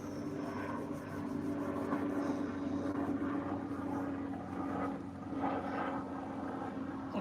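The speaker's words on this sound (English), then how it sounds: "I can hear the helicopter going across," A distant helicopter drones steadily overhead by the river at Ludham, a low rumbling hum that swells and fades slightly, heard faintly over outdoor background noise.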